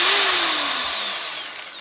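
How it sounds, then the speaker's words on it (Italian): A Parkside PSBM 750 electric hammer drill set to drilling mode starts up with a loud, high motor whine that holds steady and then slowly drops in pitch as it runs alone. "Metto modalità foratura e lo avvio per la prima volta"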